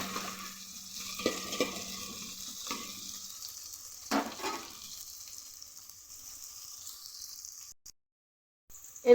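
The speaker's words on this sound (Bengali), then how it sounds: "একসাথে ভালো করে এটাকে ফ্রাই করব, গ্যাসের ফ্লেমটাকে একটু বাড়িয়ে।" Food frying and being stirred in a steel pan over a gas flame, with a steady sizzle and scraping strokes early on that fade to a quieter hiss, with no talking.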